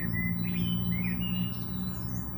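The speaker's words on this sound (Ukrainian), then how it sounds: "спів шпака, Далечині тут інші пташки співають." A starling sings in a city park, its clear whistles and chirps up front over a steady low background hum, with other birds faintly calling farther off.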